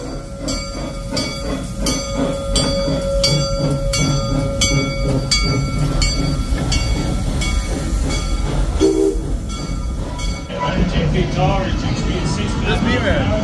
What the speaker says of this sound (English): Oh, and a train moment too? Heck yes, double train moments.